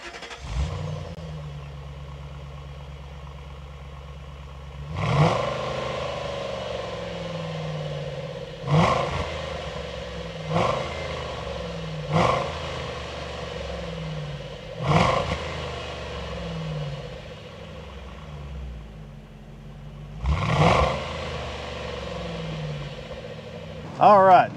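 A 2005 Ford Thunderbird 50th Anniversary Edition on the road, its mid-pitched engine rising and falling through several revs and gear changes, with bumps and clunks over a steady cabin hum while a voice talks throughout.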